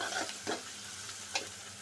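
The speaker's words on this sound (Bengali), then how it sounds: "বন্ধুরা, পেঁয়াজটা লাল হোক।" Onions frying in a pan for a thin fish-head curry with bottle gourd, a steady close sizzle with brief bursts of stirring, heard alone without talk.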